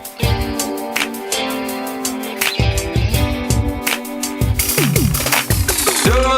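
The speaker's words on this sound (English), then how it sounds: "what you're hearing there are the first few opening bars of a song from my" Opening bars of a country song: a full band with steady drums, bass and strummed guitars, ending in a bright rising guitar slide, loud and continuous with no voices.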